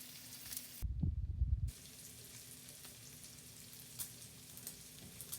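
Smoked pancetta sautéing in a pan, a quiet steady sizzle close by, briefly interrupted by a low rumbling burst and a few faint ticks and clicks later on, with no speech.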